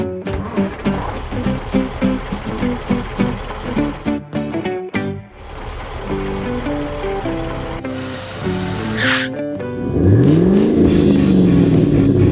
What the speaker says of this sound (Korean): 튜닝된 차량 한 대가 쏜살같이 들어옵니다.